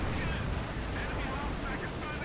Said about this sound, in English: Machine gun fire everywhere.